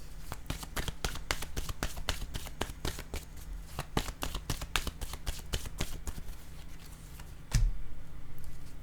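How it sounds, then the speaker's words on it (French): Rapid, rhythmic riffling of tarot cards being shuffled, a dense run of crisp flicks close by, ending with a single sharper slap as a card is drawn. "Je vais piger une carte ici."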